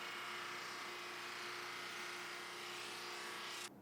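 A sander runs steadily on a marquetry panel glued to MDF, giving a continuous, even whirring hum that cuts off abruptly near the end.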